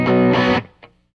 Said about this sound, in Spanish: Esta es otra distorsión.